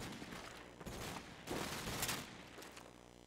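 Rapid gunfire from a wall bang in Call of Duty 4 competitive multiplayer, a dense burst of crackling shots at moderate level lasting a few seconds with no talk over it.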